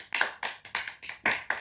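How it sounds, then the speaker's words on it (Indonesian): A small studio group claps in short bursts during an Indonesian anti-drug podcast episode, with about five quick rounds of close hand claps separated by brief pauses and no talking. "sekali lagi tepuk tangan Del."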